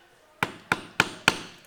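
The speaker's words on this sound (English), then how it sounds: "You're going to take the hammer, line up the dowel pin with your hole, and hold the hammer from the bottom of the handle" Hammer lightly tapping a metal dowel pin into a hole, four crisp, evenly spaced knocks at close range, each decaying quickly into quiet.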